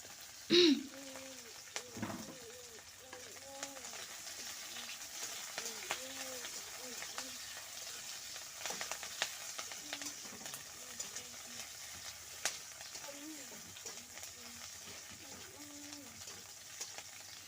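Onions with chilies fry in a pan on the stove, giving a soft, steady sizzle with occasional stirring and a faint voice in the background.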